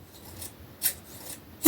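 Sharpened craft scissors make a few quick, crisp snipping crunches, close and distinct, spaced out over less than two seconds against a quiet background.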